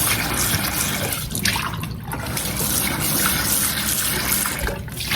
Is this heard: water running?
yes